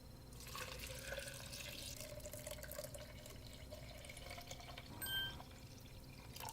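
Filtered water pours steadily into a blender at close range, a soft continuous splashing trickle with a brief clink near the end.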